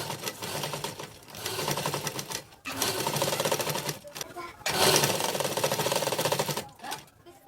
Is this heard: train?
no